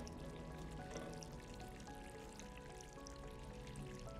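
Steady running water in the video game Stray, a continuous, faint pouring wash with a light trickling texture, heard alone without talk.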